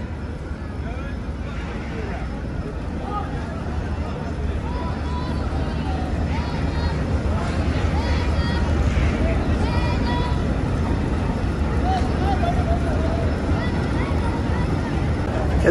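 Passenger launch ship departing on the Barisal to Chandpur route, a continuous low engine rumble with wind and water noise, while people talk nearby.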